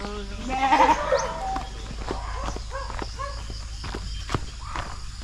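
A goat bleats once near the start, then hooves shuffle and patter on the ground amid quiet farmyard noise.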